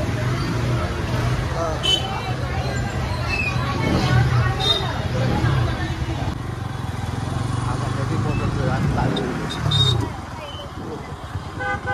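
A busy outdoor crowd murmurs and chatters at a village temple fair in Pezari, mixed with passing motorbikes and short horn toots.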